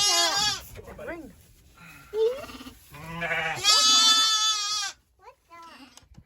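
Ewes and lambs bleating close by while being moved to pasture, several overlapping calls of differing pitch, some high and wavering, some lower, broken by brief pauses.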